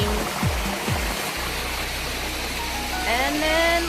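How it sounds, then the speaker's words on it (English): A small miniature waterfall at Crystal Falls in Coquitlam, BC, rushes in a steady, loud broadband roar, with voices speaking over the flowing water. "waterfall right here, little miniature one"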